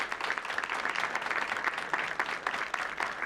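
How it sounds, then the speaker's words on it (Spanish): Audience applause for a speaker at an architecture and lighting talk, steady dense clapping throughout, fairly close and even, with no voices over it. "Un fuerte aplauso, por favor, para Eugenio Bazar"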